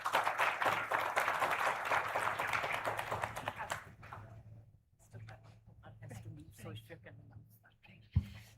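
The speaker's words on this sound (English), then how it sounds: "A huge round of applause," Audience applause at a valedictory session fills the room with dense clapping that thins out after about four seconds. Scattered claps, shuffling and murmured voices follow.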